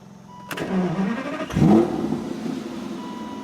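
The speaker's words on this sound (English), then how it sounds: "Interesting starting technique for the Aston here. Just insert the key ever so gently." A 2009 Aston Martin DB9 with a 6-liter V12 cranks and fires at close range, the starter catching abruptly before the engine flares into a sharp rev and settles into a steady, rumbling idle.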